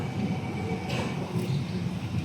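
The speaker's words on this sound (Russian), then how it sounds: "Метро, которое здесь в основном наземное." A mostly above-ground metro train passes at a moderate distance, giving a continuous rolling rumble with a brief brighter swell partway through. No one speaks over it.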